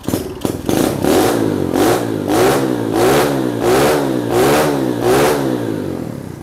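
Mini Trail HSX 110 manual-clutch trail motorcycle revved repeatedly, about eight sharp throttle blips rising and falling in a steady rhythm, loud and close, with no talking.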